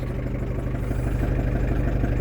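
A Ford Transit Mk5 van under restoration idles with a constant low, even hum and faint clatter, heard close and steady with no talking.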